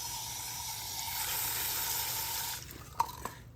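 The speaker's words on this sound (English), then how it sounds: "let me rinse these off again" Tap water runs steadily over plant cuttings being rinsed at a sink, a continuous close hiss and splash that stops abruptly near the end, followed by a couple of small clinks and drips.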